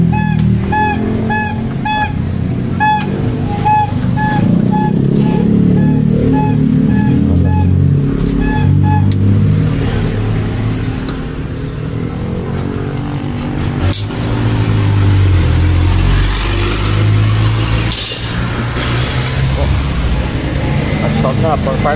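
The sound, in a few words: Mazda E2000 Power Van gasoline engine running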